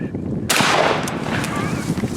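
A single loud shotgun blast during a turkey hunt in the field, sharp and close with a rolling echo fading behind it and quiet voices around it.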